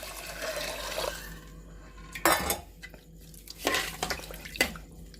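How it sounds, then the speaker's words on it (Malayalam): Water splashes into a metal pot of rice, with clattering pot and utensil knocks and several short bursts of pouring and sloshing separated by quieter pauses. "എന്നിട്ട് അതിൽ ഒരു പാത്രം വെള്ളം ഒഴിച്ച് കൊടുക്കുക"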